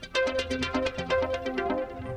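A bright electronic melody of short, evenly spaced notes steps along at a steady, lively pace, with clear, punchy attacks and no voices.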